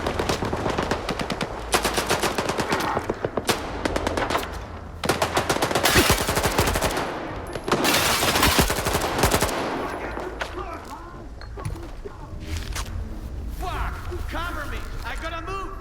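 Rapid, loud automatic machine gun fire in the S.T.A.L.K.E.R. 2 video game, coming in long sustained bursts separated by short pauses, with clattering mechanical noise and some talk mixed in.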